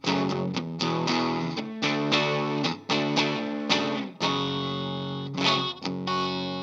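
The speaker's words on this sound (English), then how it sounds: "So that's how the pickups sound." Distorted electric guitar chords from a Knaggs Kenai-J ring out with effects, several strums and sustained notes in a loud, steady passage.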